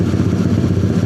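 A Yamaha Aerox V1 scooter with a custom build runs loud and close, its engine throbbing in a steady, rough, lumpy beat for a brief moment.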